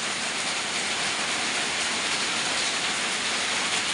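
Steady rain falling as a constant broad hiss, even and moderately loud throughout with no voices.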